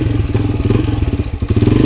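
A Kawasaki KX 125 dirt bike engine runs on a mud trail, a loud close two-stroke rattle with rapid pulsing beats and a brief dip before it picks back up.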